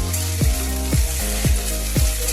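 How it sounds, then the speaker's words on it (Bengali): Ginger paste fries with browned onions in a pan, a loud continuous sizzle broken by four regular scrapes of a spatula stirring the mixture, spaced about half a second apart. "আদাটাও একটু এর সাথে ভেজে নেব পেঁয়াজের সাথে।"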